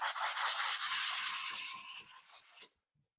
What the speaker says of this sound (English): So you sand it a little.